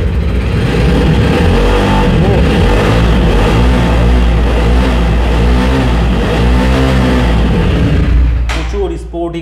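A six-gear sporty motorcycle engine runs loud and close, revving up and down in repeated swelling bursts over a steady idle rumble before cutting off at the end, with a voice speaking over it.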